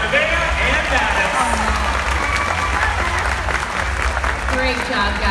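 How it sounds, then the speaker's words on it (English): Scattered audience applause at a SeaWorld show in San Antonio, Texas, steady and moderately loud over a busy outdoor crowd, with voices talking beneath it. "Everybody give a round of applause for Nevaeh and Maddox."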